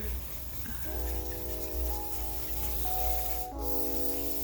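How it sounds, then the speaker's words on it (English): Brake cleaner aerosol hisses in a steady continuous spray over engine parts during a 5.3 engine rebuild, with no talking. "Good old case of brake clean"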